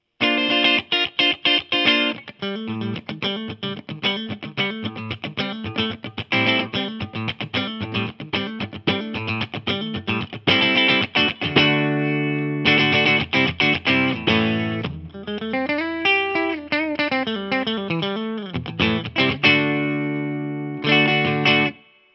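A Vintage Icon V52 electric guitar played on its neck pickup through effects, with distortion and chorus, rings out in busy strummed chords, quick choppy bursts and bending melodic lines, loud and close, with no talking.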